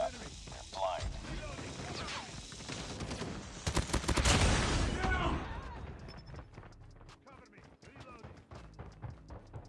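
Hip-fire gunfire in the video game COD Mobile comes in bursts of rapid shots, swelling to a dense loud volley midway and then scattered single cracks, with game sounds and footsteps around it.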